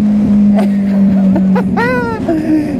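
A Kawasaki Z800 naked sport motorcycle engine idles with a steady hum, then revs sharply upward in pitch before settling, with voices faintly in the background.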